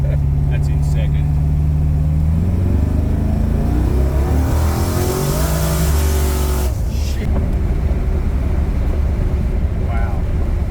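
A turbocharged big-block Chevy V8 in a VH Commodore roars as it accelerates hard in second gear, heard loud from inside the car with the engine pitch climbing steadily before easing off.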